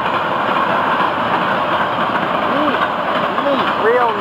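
Florida East Coast freight train locomotive hauling double-stack cars, a loud continuous engine drone and rolling rumble close by, with a voice talking over it.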